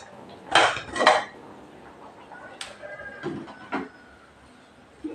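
A metal pressure-cooker lid clanks onto a cooker holding brinjal: two sharp, close metallic knocks, then a few lighter clinks and scrapes as it is fitted in place.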